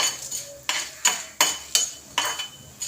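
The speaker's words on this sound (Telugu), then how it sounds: "ఇలా వేయించుకోవాలి పది ఎండుమిరపకాయలు" Metal scraping and clinking of a spatula stirring dried red chillies in a pan, six sharp regular strikes about every third of a second, close and with no talk.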